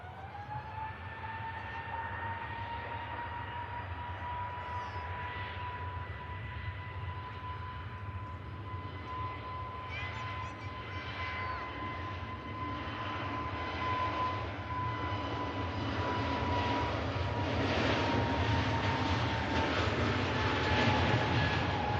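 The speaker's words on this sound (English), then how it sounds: "Off goes the EasyJet, Airbus A320 Neo. Take it off on 23 left." EasyJet Airbus A320neo taking off from runway 05 left at Manchester Airport, a steady jet engine roar with a sustained whine that slowly builds louder toward the end, heard alone without talk.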